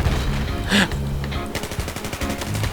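Automatic gunfire in the video game Battlefield 4 from an M416 rifle, a rapid rattling burst of close shots with a louder crack early on and faint chatter beneath.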